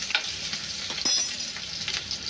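Onion being stirred and fried in a pan for a village-style wild greens dish: a soft, steady sizzle with light scraping stir strokes, fairly quiet and close, with no talking.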